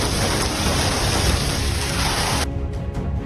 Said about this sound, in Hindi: जहां एक तरफ तो बारिश हो रही है, वहीं दूसरी तरफ सूखा पड़ा हुआ है